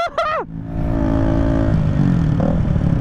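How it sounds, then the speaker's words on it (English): A Yamaha MT-09 motorcycle passes close by with a steady, loud engine drone, after a brief rising and falling tonal sweep at the very start. "That's an MT09."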